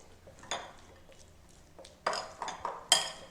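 A spoon stirs banana panchamritam with raisins, honey and ghee in a metal vessel, giving faint scraping at first, then a few louder clinks and scrapes near the end.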